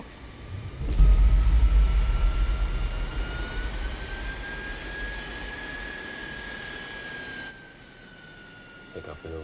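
Jet airliner engines spooling up on the LaGuardia runway at the start of a takeoff roll, a loud rising roar with steady whining tones that gradually fades, with no speech.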